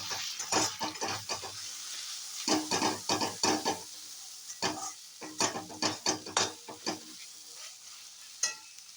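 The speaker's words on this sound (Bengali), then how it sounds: "এবার এই মশলাটাকে আমি কষানো মানে ওর জন্য একটু অপেক্ষা করবো" Turmeric, Kashmiri red chilli, cumin and coriander powders sautéed in a pan for a muri ghonto, with bursts of spoon-on-pan scraping and stirring over a faint sizzle, coming in uneven clusters.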